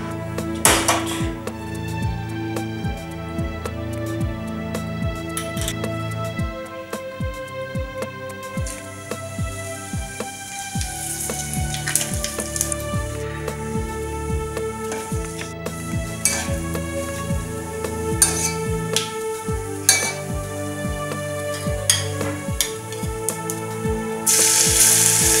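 Raw papaya with whole spices fries in hot oil and is stirred, making a continuous sizzle over repeated metallic clinks and scrapes of a utensil against the pan, close up.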